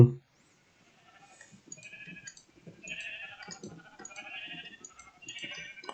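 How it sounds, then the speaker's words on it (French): Minecraft sheep bleating, a short burst of sound at the start and then a run of repeated wavering bleats from several animals, moderately loud and close, with no voice over them. "On va faire deux petits moutons de plus."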